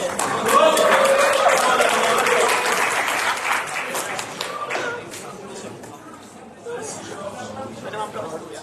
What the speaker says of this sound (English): Let's give a round of applause for George.